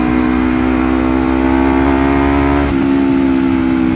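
A Honda CBR250RR fitted with a 3Tech Evox X3NRC exhaust holds a loud, close, steady high-rpm rev with strong harmonic tones, briefly dipping once near the end.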